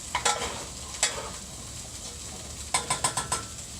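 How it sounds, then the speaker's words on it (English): A soft, steady sizzle of garlic and seasonings sautéing in a pan, with a few sharp clicks and scrapes of a utensil stirring against the metal. "So I'm just gonna saute the garlic and the seasonings"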